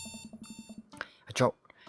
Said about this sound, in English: awake to the sound of my alarm